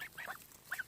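A pair of farm geese honk in short, faint calls, one couple of honks near the start and another toward the end, heard from some distance in a field.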